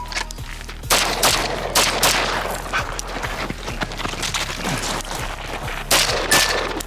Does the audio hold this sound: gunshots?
yes